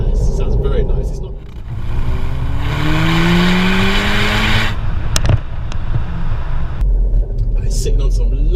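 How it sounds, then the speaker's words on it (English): A Revo-tuned Mk5 Golf GTI with a full Milltek exhaust system rumbles and revs with a deep, throaty exhaust note, rising in pitch, while a person talks over it. "full milltek exhaust system, which, boy, it does sound nice"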